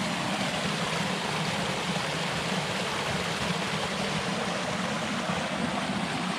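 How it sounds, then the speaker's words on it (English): A small waterfall on a trail spills into a pond on Arkansas's Ouachita Trail, making a steady, even rushing wash of water that continues without a break, with no voices. "We have ourselves a little waterfall."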